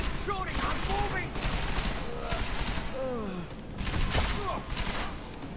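Rapid bursts of gunfire ring out while shooting an enemy in the video game Deus Ex: Mankind Divided, dense volleys at close range with brief gaps and sweeping whines.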